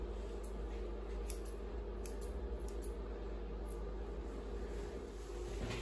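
Scissors trim the fur of an Australian Shepherd during grooming, leaving a few faint, brief snips scattered over a steady background hiss and hum.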